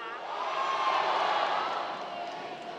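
A large crowd at a live stage event lets out a sustained roar of shouting and cheering, dense and loud throughout with no pauses.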